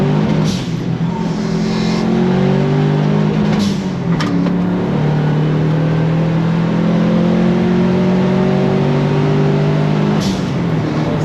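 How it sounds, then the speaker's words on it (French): A Volkswagen T3 bus fitted with a swapped Subaru engine runs hard on a dynamometer, a loud steady engine drone with rising tones and wheels hammering on the rollers, with a few sharp knocks early on. "Là c'est les roues qui battent."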